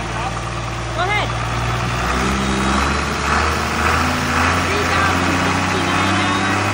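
A 6.8 liter John Deere diesel engine on a towable American Road Machinery leaf collector idles with a steady low rumble throughout, with people talking over it.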